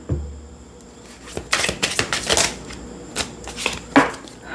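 A deck of Secrets Revealed True Crime oracle cards shuffled by hand, bursts of riffling and flicking in uneven clusters, close and fairly quiet, with no talk.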